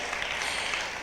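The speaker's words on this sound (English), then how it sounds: "Let's please give another round of applause to Ms. Salter." Audience applause at a Women's History Month celebration at Union County College, a steady dense wash of clapping filling the short moment, fairly faint and even throughout.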